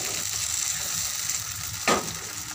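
Tomato, onion, garlic and ginger fry in oil in a kadhai, a steady close sizzle running throughout with one brief louder crackle near the end.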